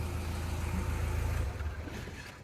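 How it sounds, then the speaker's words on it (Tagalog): A car engine idles after intake manifold replacement and intake system cleaning, a steady low rumble close by that eases off slightly toward the end. "Ang ganda ngayon ng gigil ng makina natin."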